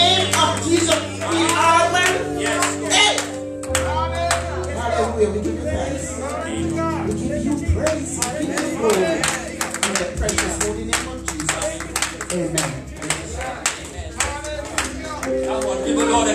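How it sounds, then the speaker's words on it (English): A church congregation claps along during a worship service, the sharp claps falling into a steady rhythm that grows denser in the second half, layered with music and voices. "Come on, give the Lord a clap offering today."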